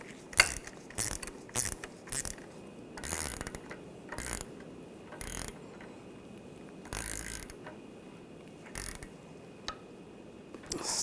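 A ratchet wrench tightens a strut mount nut on the front of a 2007-2013 BMW X5, giving quick bursts of rapid clicking that stop and start repeatedly at close range, with no talk.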